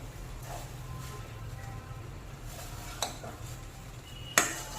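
A bread fry mixture is stirred in a pan, with quiet steady scraping and a couple of sharp utensil clinks against the metal, the last one loudest.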